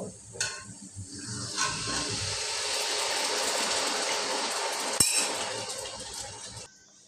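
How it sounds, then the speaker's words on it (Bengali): Water splashes into a hot pan of frying turmeric and chili powder and hisses into a steady sizzle, with a few metal clinks at the start and a sharp knock midway. "একটু পানি দিয়ে দিব।"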